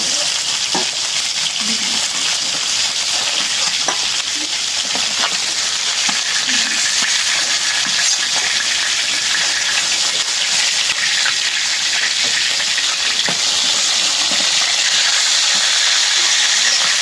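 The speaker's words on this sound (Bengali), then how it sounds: "টাটকা মাছ তো বেশি করা ভাজবো না হালকা ভাজা" Fresh katla fish pieces fry lightly in hot oil, giving a continuous, loud, close-up sizzle and hiss that runs unbroken for the whole stretch, with faint scraping and small pops underneath.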